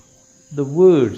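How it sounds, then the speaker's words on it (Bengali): A cricket calls nearby with a short rising chirp, clear and fairly loud against a quiet background, with no voices. "শুনতে পাচ্ছেন ঝিঝি পোকাটা কি বলছে"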